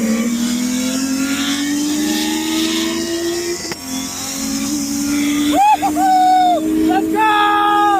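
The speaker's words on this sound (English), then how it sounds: "Turbo, a GTX 35, 82, journal bearing. Great turbo, I love it. Makes great noises, spools." Single-turbo BMW fitted with a GTX3582 journal-bearing turbo accelerating hard, a loud continuous engine drone rising in pitch, with sharp rising whistles of turbo spool and a brief shift dip near the end.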